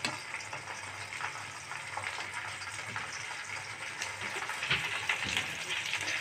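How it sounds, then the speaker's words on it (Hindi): Small fish frying in a pan under a cover of pumpkin leaves, giving a steady close sizzle with a few louder crackles and pops, no talking. "देखिए कैसे गोल्डन ब्राउन हमारी मछली बिल्कुल अच्छे से फ्राई हो चुकी है।"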